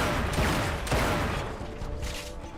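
Gunfire in The Chronicles of Riddick: Escape From Butcher Bay, a dense volley of shots with sharp transients near 0.4 and 0.9 seconds over a loud, continuous rumble of game noise.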